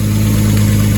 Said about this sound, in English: Maybe it's just the exhaust noise got louder